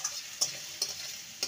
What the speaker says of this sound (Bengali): ভালো করে নেড়ে নিলেই এটা রেডি হয়ে গেছে